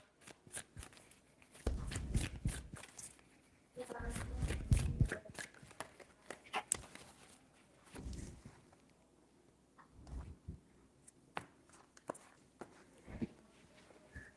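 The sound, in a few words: shuffling tarot cards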